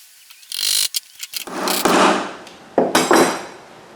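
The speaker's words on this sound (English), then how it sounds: "I'm going to trace the perimeter of the nut on the wood and then chisel" Hammer and chisel cutting a recess for a nut into a piece of wood, with a few sharp mallet strikes and scraping chisel passes coming in short, uneven bursts close by.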